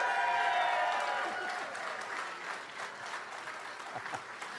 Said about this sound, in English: She's clapping, too.